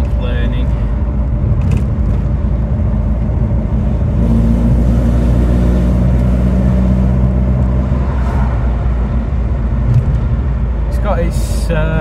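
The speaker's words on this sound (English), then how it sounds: "You can probably hear that axle, that differential whining a bit, that's complaining." A Mk.2 Ford Escort RS2000 with a standard four-speed gearbox driving along, its engine droning loudly and steadily inside the cabin, with a faint differential whine in the mix and someone talking throughout.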